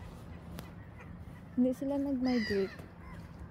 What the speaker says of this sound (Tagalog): yung mga pato or bibi.